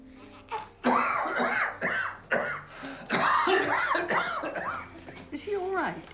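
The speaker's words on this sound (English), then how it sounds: "He's had that cough since our second date." A man coughs several times in a drama film, a run of sharp, close bursts, while other people's voices also sound through the scene.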